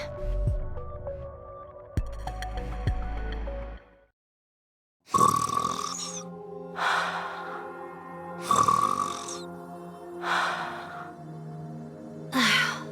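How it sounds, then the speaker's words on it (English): Exaggerated cartoonish snoring from a character in the video game Nikke, several long drawn-out snores in a slow rhythm after a brief musical passage and a moment of silence. "Gretel and I think Ave's snoring is goddess level"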